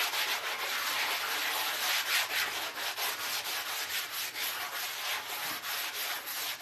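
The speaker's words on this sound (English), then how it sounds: "just give it a quick little sanding" Hand sanding a painted wooden pool sign, quick rhythmic back-and-forth scratchy strokes, close and steady, with no talking.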